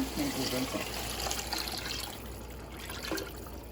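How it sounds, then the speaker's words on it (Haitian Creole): Dark djon djon mushroom water poured into a pot for Haitian rice, a soft running trickle under a faint kitchen background with some talk. "Là, on va ajouter l'eau John, OK?"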